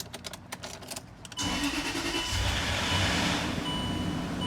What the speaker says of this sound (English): we're gonna go now, crank the car up, and the RPM should level off